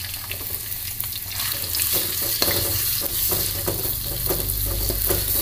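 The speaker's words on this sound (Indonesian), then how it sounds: "Mari kita tumis dulu." Ground spice paste sizzles and fries in oil in a wok, a continuous loud crackling hiss broken by repeated scraping stirs, close up with no talking.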